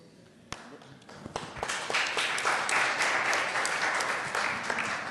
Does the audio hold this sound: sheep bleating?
no